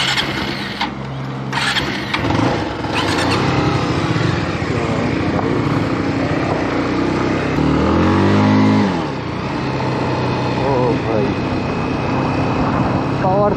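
A Bajaj Dominar 250 motorcycle rides along at steady loud engine drone, with a brief rise and fall of revs midway; someone talks over it throughout.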